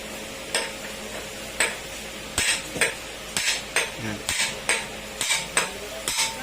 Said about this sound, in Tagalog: Pinupukpok na natin yung ano, sigunyal